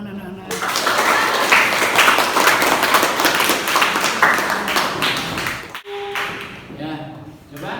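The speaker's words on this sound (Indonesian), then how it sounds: "Tepuk tangan anak-anak." Children clapping together in a classroom, dense rhythmic applause loud and close that fades out, followed by a voice speaking.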